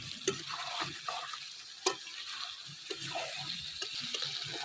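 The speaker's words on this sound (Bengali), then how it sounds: "তেল ফেলে দিয়েছে একদম আর একটু কষিয়ে নেব" Meat frying in oil while being stirred and browned for a curry, a soft, steady sizzle with scraping stirring strokes and occasional pops, close but fairly quiet, with no speech.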